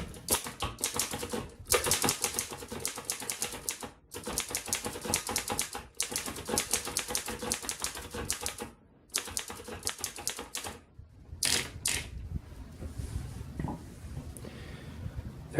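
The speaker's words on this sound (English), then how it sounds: "you hear it drumming as the keys hit" A 1913 Royal Model 5 flatbed typewriter clacks in dense bursts of drumming keystrokes broken by short pauses, close and crisp, ending in a quieter mechanical rattle; no one speaks.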